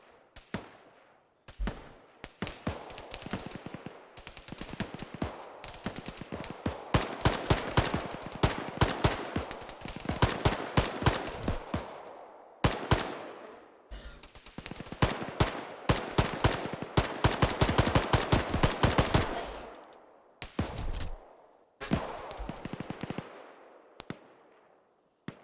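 Repeated bursts of Arma 3 gunfire crack out in rapid volleys across the whole stretch, with sharp loud shots and short gaps between clusters, from a military squad engaging a single approaching enemy.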